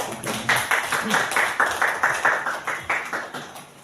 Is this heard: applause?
yes